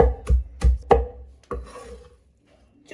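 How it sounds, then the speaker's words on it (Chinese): A kitchen knife chops kneaded schizonepeta (jingjie) leaves on a cutting board: four sharp, close thuds in a quick irregular rhythm, then a softer scraping and silence. "必须要用刀切哈，剁得越碎越好"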